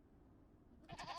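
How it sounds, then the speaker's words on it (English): Goats bleating in the Age of Empires II real-time strategy game, a couple of short bleats arriving only near the end after a quiet stretch. "It's goats, man."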